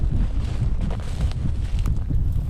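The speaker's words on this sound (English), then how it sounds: "It's also pretty windy, which wouldn't help" Strong wind buffeting the microphone, a constant low rumbling roar with gusty swells and no voices.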